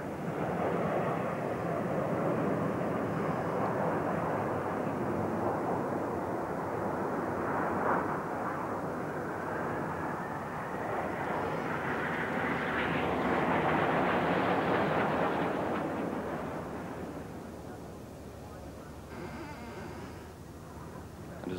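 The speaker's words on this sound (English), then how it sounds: "Another new pattern this year and unique, with 5 aircraft rolling in line abreast," Five jets at a 1984 Mildenhall air show fly in line-abreast Delta formation, a loud continuous engine roar that swells and fades as they pass, with no talk over it.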